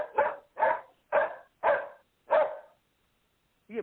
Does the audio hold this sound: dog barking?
yes